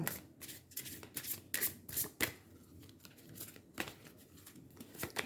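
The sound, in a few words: shuffling and drawing tarot cards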